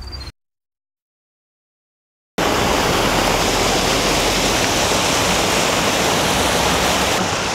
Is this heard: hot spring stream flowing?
yes